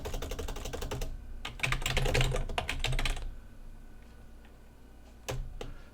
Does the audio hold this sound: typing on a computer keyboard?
yes